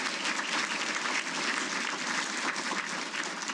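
Audience at a Hall of Fame induction ceremony applauding steadily, a dense even wash of clapping from a crowd with no talk over it.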